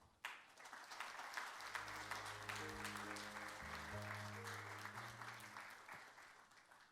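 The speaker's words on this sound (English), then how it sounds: "Please welcome him with a big round of applause." A conference audience applauds warmly, a dense steady clapping that holds for several seconds while music plays underneath.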